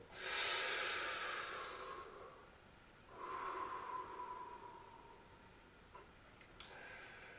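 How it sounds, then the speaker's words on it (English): Slow, audible breaths during a breathing exercise: a long airy exhale followed by a softer inhale and another breath, close and alone with no talking. "Breathe out, this goes in. Breathing in, push this in."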